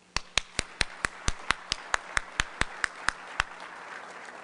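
A lone person claps about fifteen times in an even rhythm at a Rotary Club meeting, each clap crisp and close, with no wider crowd applause joining in.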